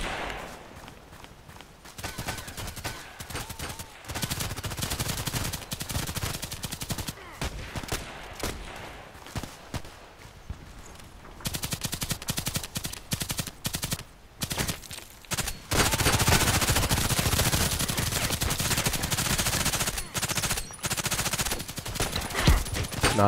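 Gunfire in a sniper-focused shooter game, a dense barrage of rapid shots and bursts that runs nearly nonstop at high volume, with brief lulls between volleys and no clear talk.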